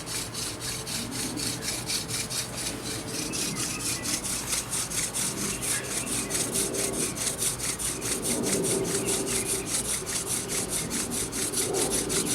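A wooden friction-fire spindle grinds into a wooden fireboard, a rapid, steady back-and-forth rasping like sawing, close up and fairly quiet, continuing evenly throughout with no talking.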